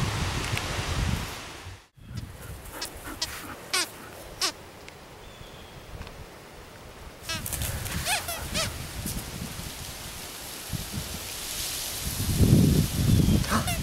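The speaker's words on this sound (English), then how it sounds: "Here comes the wind." Wind gusts through leaves outdoors with a steady, breathy rush and microphone buffeting, rising and falling over the clip while a child and an adult talk nearby.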